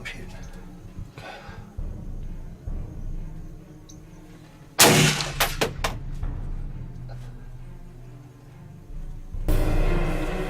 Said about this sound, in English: Let me know before you shoot. I'm shooting.